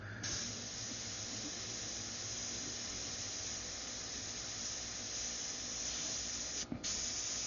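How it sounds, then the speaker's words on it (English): An airbrush sprays titanium white paint in a continuous, even hiss close to the listener, broken only by a brief pause near the end, with no voices. "You're basically spraying powdered titanium."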